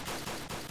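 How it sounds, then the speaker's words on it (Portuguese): A gunshot in the shooter game Point Blank fills the moment as a loud, dense burst of broadband noise, close and harsh, with no voices. "Nossa, um tiro, hein?"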